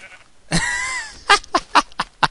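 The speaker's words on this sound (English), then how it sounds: "Hey, you wanna kill some sheep?" Sheep bleat in the Minecraft video game: one long wavering bleat followed by a quick run of five shorter bleats, loud and close with no talking over them.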